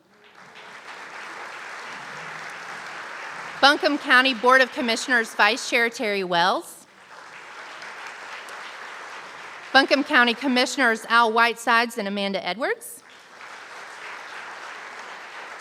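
At an arts brunch, an audience claps in a steady, sustained round of applause for elected officials, heard under a speaker who names guests twice, with the clapping continuing between the spoken parts.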